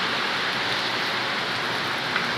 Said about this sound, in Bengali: এই বৃষ্টি কখন শেষ হবে বুঝতে পারছি না।